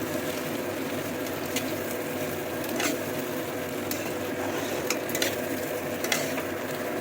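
Steady, even sizzling of food frying in a pan, with occasional scraping stirs and light clinks, no voices.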